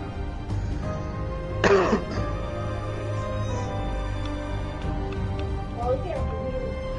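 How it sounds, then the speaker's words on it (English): One short, rough cough or throat-clear bursts out close to the microphone, set against a steady bed of voices and game audio. "The smell makes me wanna cough."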